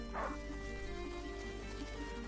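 Leo, a hunting dog in the video game A Plague Tale: Innocence, gives a short whimpering yelp over steady tonal game music.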